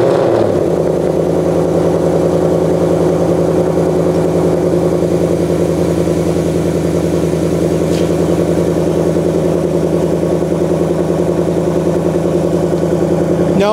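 A Ford Mustang GT fires up on a cold morning start with a quick loud rev, then settles into a steady, throaty, rumbling idle that continues close and loud to the end.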